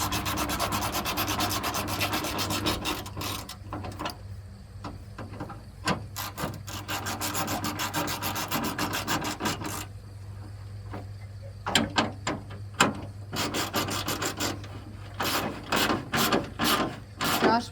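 A Stanley hand ratchet turning on parts of a 1990 Chevrolet C1500 truck, giving steady rasping clicks in quick bursts with brief pauses, close and fairly loud throughout.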